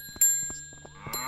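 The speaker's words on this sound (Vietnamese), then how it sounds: "mang cái giày có chuông này vô" Bells on a pair of shoes in a zombie survival video game give two bright, ringing dings about a second apart, each decaying over quiet, soft footstep-like taps.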